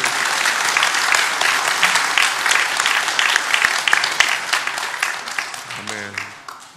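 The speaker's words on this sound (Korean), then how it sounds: "우리 하나님께 박수의 영광 올려드리겠습니다." Applause from a church congregation fills the space, a dense and steady wash of clapping that carries on for several seconds and starts to die down at the end, where a voice begins to speak.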